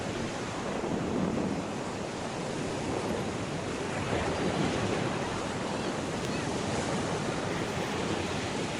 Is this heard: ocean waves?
yes